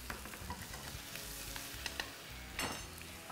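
Cumin, asafoetida, chopped ginger and green chilli sizzling in hot oil for sweet potato tikki stuffing, a steady close frying hiss with small crackles and a brief stir, no talking.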